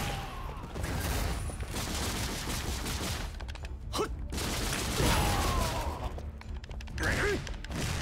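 Gunfire from guns in Tokyo Ghoul:re Call to Exist crackles in steady bursts of rapid shots, fairly close and mid-level, with brief gaps between volleys and little talk over it.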